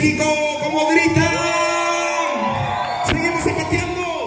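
A crowd whoops, shouts and cheers at a dance festival in Santo Domingo Tonaltepec, loud, overlapping yells layered over music, with a sharp burst near the end.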